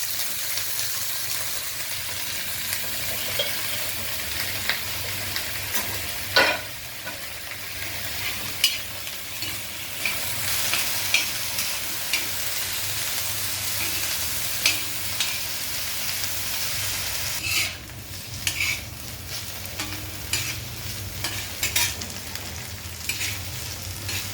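Cauliflower, potato and eggplant fry on a flat iron tawa with a continuous loud hiss and crackle, plus scattered scraping taps from a spatula as the vegetables are moved around.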